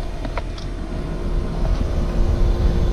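A home HVAC system running at full throttle gives a steady, loud broadband whoosh and hum with a faint tonal drone, continuous and close.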